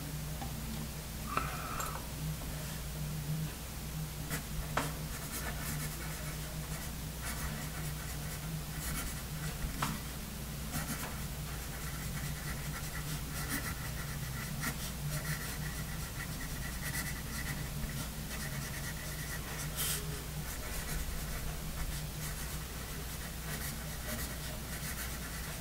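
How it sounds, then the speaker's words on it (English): Steady pencil strokes from a Musgrave Tennessee Red Cedar pencil writing on paper, soft close scratching and light ticking taps that run continuously and quietly with no talk. "We'll try doing some writing here."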